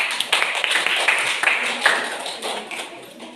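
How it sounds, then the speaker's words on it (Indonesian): A Year 9 class gives a short round of applause, scattered claps rising and slowly fading over a few seconds. "Beri tepuk tangannya teman-teman"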